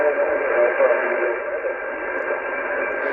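Radio reception through a full-size G5RV antenna at a new home station in Oxfordshire: a narrow-band, hissy voice transmission comes steadily through the receiver, close and even in level.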